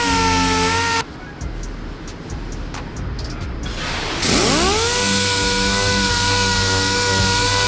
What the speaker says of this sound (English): you're just sanding to remove the clear coat